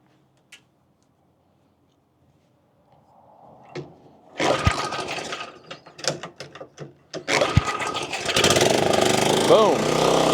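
A RedMax CZT54X zero-turn mower engine, primed with starter fluid, turns over after a quiet pause with a few faint clicks, then catches with loud cranking bursts and settles into a steady, close, running roar.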